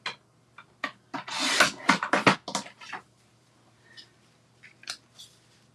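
Scissors snip through card paper for an accordion card: a run of close, crisp cuts, one long slicing stroke in the middle, then a few lighter snips, with no talk.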